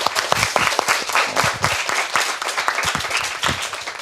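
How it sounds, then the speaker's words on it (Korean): A high school student audience gives lively applause after a school debate, close and uneven clapping with a few sharp individual claps standing out throughout. "다시 한번 뜨거운 박수 부탁드립니다"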